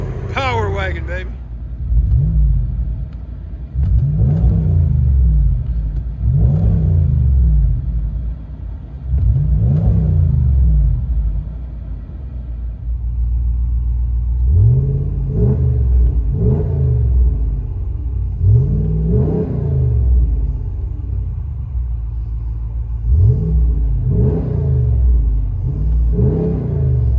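A Ram Power Wagon pickup with a 6.4L Hemi V8 revs from inside the cab, giving repeated deep throttle blips that swell and fall back to a steady idle rumble, loud and close.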